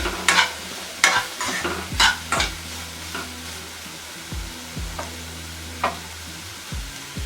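Omelette masala with ground black pepper frying in a pan, a soft continuous sizzle broken by repeated scraping stirs of a spatula against the pan at an irregular pace, close and with no voices.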